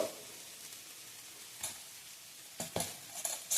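Bread toast roasts in oil in a pan over a medium flame, giving a faint, steady sizzle broken by a few short scraping clinks of a utensil against the pan.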